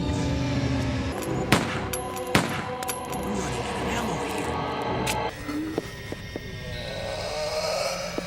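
Gunfire from the video game Resident Evil Code Veronica X: a few sharp shots crack over a busy game soundtrack, mixed with voices talking.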